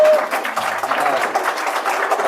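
An audience claps loudly and steadily for a brief stretch, a dense wash of hands close by with no pause in the sound.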